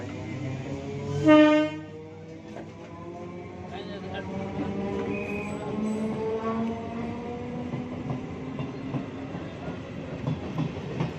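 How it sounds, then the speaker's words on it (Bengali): A Hasnabad local train rumbles past with a horn blast at the start, then steady rolling clatter of wheels and cars, with people talking underneath. "ওই যে ট্রেন যাচ্ছে"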